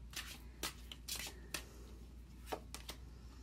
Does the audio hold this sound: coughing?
no